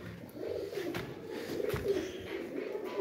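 Pigeons cooing softly in a loft at a Punjabi pigeon keeper's place, a low steady murmur of overlapping coos with faint background noise and no talk.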